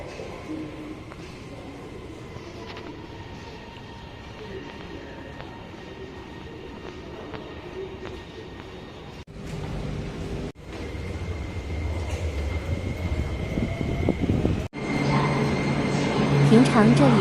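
A Beijing Subway Line 10 train at morning rush hour picks up speed. Its rumble and rising whine swell louder toward the end, with the sharp jolts of the carriage and faint murmurs of passengers inside.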